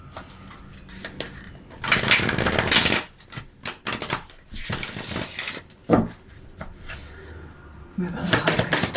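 Tarot cards are shuffled and pulled in repeated papery riffling bursts, loud and close, with short pauses between shuffles.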